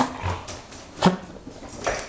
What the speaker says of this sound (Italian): È proprio un bravo cane, la Ciumina.